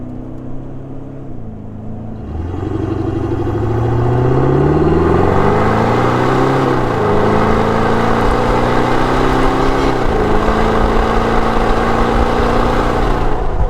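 A Toyota Land Cruiser 200 Series with a straight-pipe exhaust cruises at about 80 km/h in fifth gear under no load. Its steady, droning exhaust tone builds early on, then holds loud and close with slight pitch drifts and no talking.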